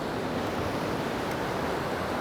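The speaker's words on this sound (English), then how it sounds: "I just love it when the water is rushing over these rocks" Sea waves rushing over coastal rocks, a continuous loud broadband wash of surf close by with no let-up, alone without voices.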